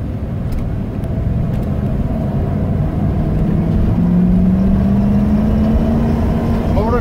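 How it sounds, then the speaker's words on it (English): A 1997 Dodge Roadtrek Versatile camper van driving around the block, its engine a steady, loud low rumble heard from inside the cab, with rising pitch as it accelerates smoothly toward the end. "we're going to take the Roadtrek for a spin around the block."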